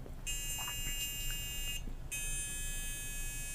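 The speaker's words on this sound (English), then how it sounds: "So if you pass something through the metal detector that has a certain alarm level" A Garrett MZ6100 walk-through metal detector sounds a steady, loud electronic alarm tone that breaks off briefly and then resumes, heard close over a constant low room hum.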